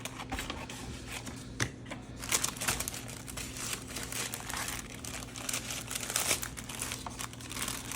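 Paper being cut and handled for junk journal collage: steady close crinkling and rustling with occasional sharper snips and crisp rattles, continuous throughout, no talking.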